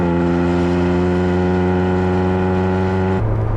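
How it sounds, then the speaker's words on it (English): A Ferrari 430 race car engine holds a loud, steady mechanical whine with a rich droning hum, heard from inside the cockpit, which shifts abruptly just before the end. "you can hear all the engine popping and fizzing behind you"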